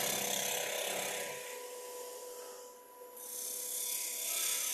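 A woodturning tool trims and squares off the end of a piece spinning on a lathe, a close steady scraping rasp that dips briefly midway before resuming.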